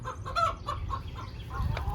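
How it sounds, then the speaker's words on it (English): A hen locked inside an automatic chicken coop squawks and clucks in a rapid series of agitated calls, muffled by the coop walls and fairly close, with no talking over it. "You hear the chicken inside screaming."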